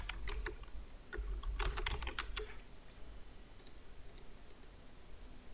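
Clattering keystrokes on a computer keyboard while text is entered into a PDF text box in Adobe Acrobat Pro DC, a quick flurry of close, crisp clicks that thins out into a few soft taps.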